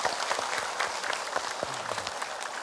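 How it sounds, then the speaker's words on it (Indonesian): Studio audience of women at an Indonesian religious TV show applauding, a steady, fairly close patter of many hands lasting the whole moment with no talk over it. "Tepuk tangan."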